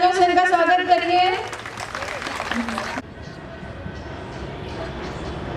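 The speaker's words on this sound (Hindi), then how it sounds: "तो लोग जरा जोरदार तालियों से इनका स्वागत करिए" An audience at a Rajasthani Ghoomar and Gujarati Garba dance program claps in a dense, short burst of applause after a singing voice, then fades into a low murmur of crowd noise.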